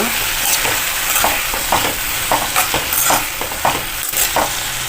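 Grated papaya thoran with salt and turmeric stirred in a pan, a close sizzling fry broken by frequent scraping strokes of a spoon against the metal, loud and alone.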